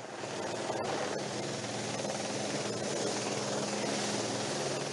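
A helicopter flies over a medieval castle under restoration, where a wall is being rebuilt with wooden scaffolding. Its steady, loud rotor drone with low thumping holds throughout with no speech.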